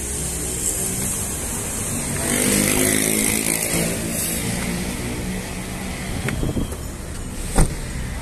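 A 2016 Daihatsu Xenia Type R idles steadily in a showroom, giving a constant engine hum with a faint hiss. A sharp click or thump stands out near the end, and no one speaks.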